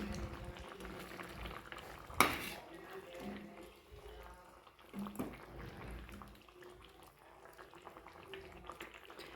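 A fish head simmers in mustard curry in a pot, with soft bubbling and liquid movement, a sharp clatter near the start and a quiet voice talking over parts of it.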